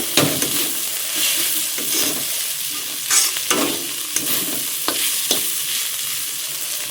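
Food frying in a pan while being stirred at a December picnic, with repeated scraping strokes over a continuous sizzle, close and loud, no talk.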